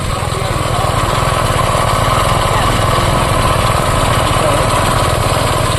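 Engine-driven sprayer pump running at full pressure for spraying a soybean crop, a loud steady drone close by that holds without a break.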